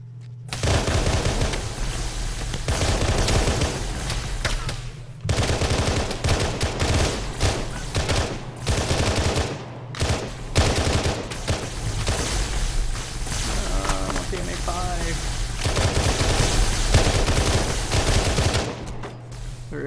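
Sustained automatic gunfire in Halo as a player shoots an Elite: long, loud streams of rapid shots broken by short pauses, with a steady low engine-like hum underneath and no talking.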